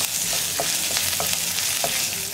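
Brinjal roast sizzles steadily in a pan as spices are stirred in, a constant bright frying hiss with soft scraping strokes of the spoon every half second or so.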